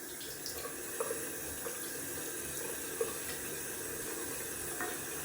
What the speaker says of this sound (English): Gonna add some cold water to the face.